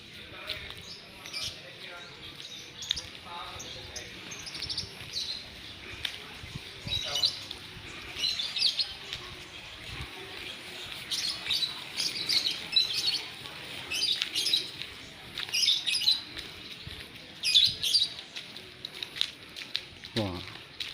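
Birds chirp and tweet around an indoor sports hall in Pasuruan in the morning, scattered calls sounding fairly close against steady background noise, with a faint voice now and then.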